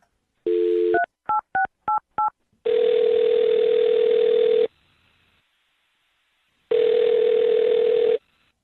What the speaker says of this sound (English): I'm going to dial her number right now.